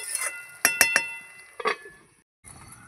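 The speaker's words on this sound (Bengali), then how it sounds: "এই যে ঢাকাটা খুলে দেখব" Metal lid on a pot of cooking meat clinks sharply several times in quick succession, then scrapes and settles with a final clatter, close and clear.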